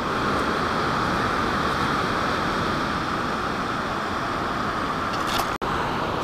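Steady broadband ocean surf washes continuously over a beach during metal detecting, a loud and even roar with no pauses or talk, ending with a brief sharp click.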